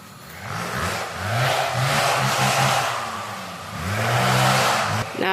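A machine's engine runs and revs in repeated surges, loud and close, with a rough mid-pitched drone rising and falling over several seconds.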